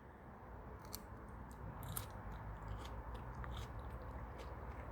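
Crisp bites into a crunchy Adana-style pumpkin dessert, several sharp crackling crunches close to the mic followed by chewing, with no talking.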